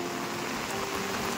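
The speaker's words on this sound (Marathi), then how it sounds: "तर पाऊस बघा केवढं जोरात चालू झालो" Heavy monsoon rain pours down steadily over a village farm, a dense, even hiss of falling water filling the air with no voices.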